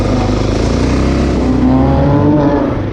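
A car accelerating past in New York City traffic, heard as a loud, close engine roar and rising rev that sweeps by steadily under street noise, with no talking.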